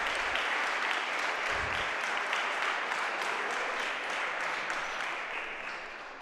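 A crowd at a one-wall handball final applauds warmly after the first game is won, dense sustained clapping filling the space, loud and steady before easing slightly at the end.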